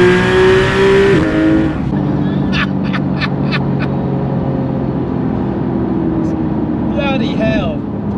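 A Porsche 911 GT3 (991.1) engine revs hard to a high-pitched scream, then drops as the car drives on with a steady loud drone, with a quick blip of revs near the end.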